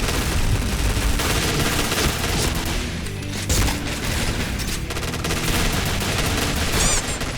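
Rapid bursts of gunfire from an M200 rifle in the Point Blank shooter game, loud and continuous with booming shots and dense rattling fire throughout.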